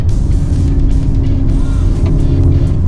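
A Mercedes-Benz GLC 300 SUV, 2023 model with the petrol engine, driving along: a steady, loud engine drone with road and cabin rumble that holds throughout, no speech over it.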